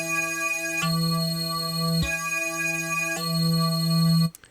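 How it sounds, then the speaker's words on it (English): A buzzy Massive X synth tone with a metallic, phasing comb-filter character sustains in repeated held notes, separated by sharp clicks, then cuts off. "with the comb filter, you can create some really nice phasing sounds"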